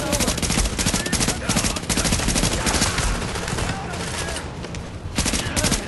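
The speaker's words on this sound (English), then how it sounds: "I'm having to tap the trigger a lot because this gun's burst" Rapid burst-fire gunshots in the video game The Division crackle densely and loudly from close range, in repeated clusters with a brief lull near the end, under occasional talk.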